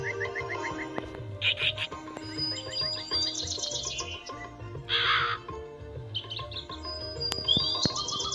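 A crow caws in the Meena video game among game chirps and music, with several harsh calls repeating at moderate loudness over a steady low background score.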